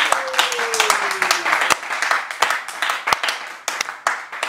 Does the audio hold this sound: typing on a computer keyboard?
no